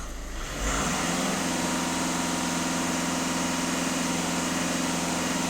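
Volkswagen Touran 1.6 TDI diesel engine idling steadily, a continuous even hum with a slight rise in level just after the start, heard close up with no speech.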